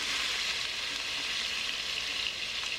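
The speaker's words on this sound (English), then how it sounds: "now over to the stove with some vegetable oil. And then lay the fish gently, skin side down." Fish sizzles skin side down in hot vegetable oil on a stovetop, a steady, loud, close frying hiss that runs without pause.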